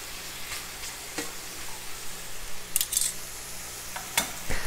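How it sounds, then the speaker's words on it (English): Shrimp sizzles in a hot pan for Cajun shrimp Alfredo, a continuous close frying hiss broken by several bright clattering bursts as the pieces are tossed and stirred. "So we'll toss that shrimp, let that cook"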